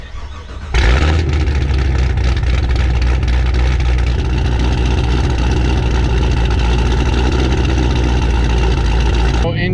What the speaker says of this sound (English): the Redline series actually idles quieter than the other two systems. So let's go drive around, see how she sounds.